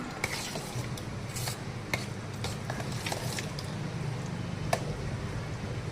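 Curd rice being mixed by hand with poured milk, giving a continuous soft squelching and stirring texture with occasional light clicks against the dish, steady and close throughout.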